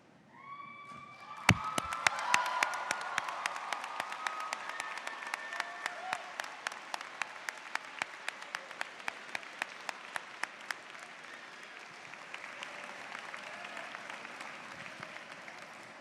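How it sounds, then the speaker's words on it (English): Graduates and guests at a university spring convocation burst into sustained applause and cheering, dense clapping swelling early and holding steady, with sharp individual claps standing out near the front. "why don't you let out a big U of M cheer for them?"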